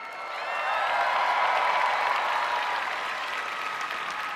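Audience applause at a Move Forward Party political event in Thailand, a crowd clapping steadily, swelling quickly then slowly tapering, moderately distant with a faint murmur of voices.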